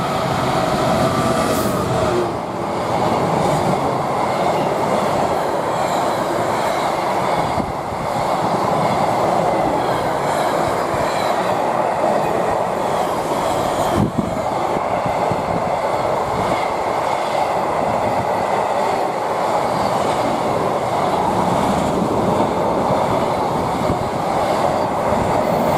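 A DB class 66 locomotive, 66120, hauls a Trafford Park to London Gateway freight past Tamworth on the West Coast Main Line, a loud sustained rumble and clatter of wagons rolling steadily by at close range.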